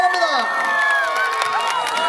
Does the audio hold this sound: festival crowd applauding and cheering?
yes